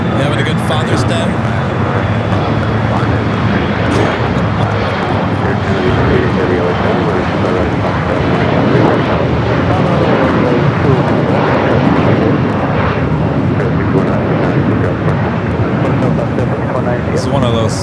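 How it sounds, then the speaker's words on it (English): A Delta Boeing 757 sports charter jet without winglets roars at LAX, its steady, loud engine rumble and whine filling the air for the whole stretch, with people talking over it. "This is one of those sports charter Delta 757s. No winglets."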